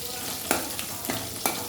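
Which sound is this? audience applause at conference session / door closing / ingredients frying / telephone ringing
ingredients frying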